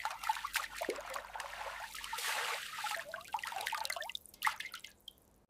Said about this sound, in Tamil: தண்ணீர் தெளிவாகும் வரை கழுவுங்கள்.